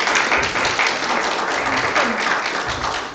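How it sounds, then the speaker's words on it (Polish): Audience applauding at a talk, a dense, steady burst of clapping close by that holds throughout. "te oklaski to ja przyjmuję w imieniu bardzo dużej grupy ludzi"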